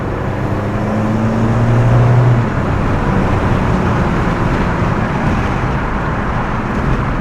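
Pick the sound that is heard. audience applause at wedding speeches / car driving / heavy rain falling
car driving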